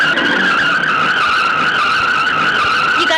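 Tyres squeal in a long, loud, steady skid as a car speeds off in a Hindi film scene, with engine roar underneath.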